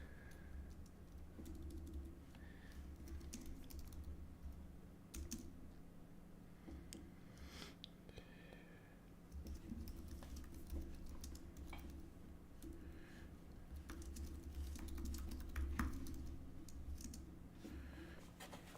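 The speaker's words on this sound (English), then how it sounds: "how slow I am at typing." Slow, uneven typing on a computer keyboard continues for a long stretch, the key clicks soft and close over a constant low hum, with a few short pauses between bursts.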